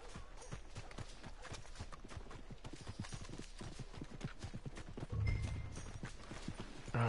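Steady clip-clop of horse hooves in the video game Red Dead Redemption 2, at a walking pace, close and continuous, with a brief low snort or rumble near the end.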